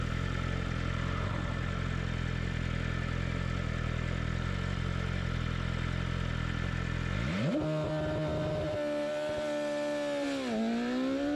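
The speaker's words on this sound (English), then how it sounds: "So he's going to go down into first gear. He's going to rev the piss out of it." A car engine idles roughly and loud in first gear, then after several seconds the revs climb sharply into a high, sustained whining roar for launch control, dipping briefly and rising again near the end.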